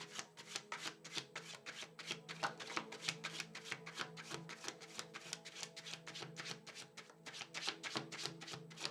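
Tarot cards shuffled steadily by hand, a continuous run of soft riffling slaps and papery rubs at a quick, even rhythm, close and quiet, with no talking.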